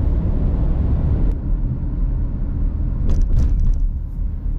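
A car driving along a road in rural Mississippi heard from inside, a loud steady low rumble of engine and tyres with constant road noise and no talk.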